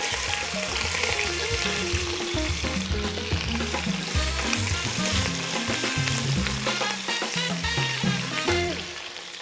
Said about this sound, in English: short ribs will go in here and we will brown them